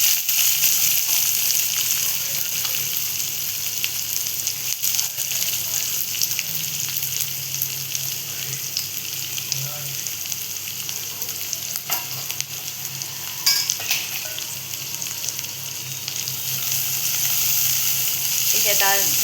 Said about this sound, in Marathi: इथे आता आधी आपण कांदा परतवून घेऊया ना